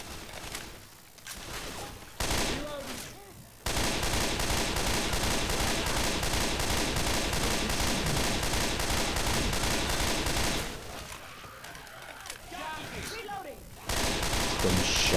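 Dense, rapid gunfire from a Left 4 Dead 2 zombie shooter game: near-continuous loud volleys with short pauses early and around the eleven-second mark, with voices at times.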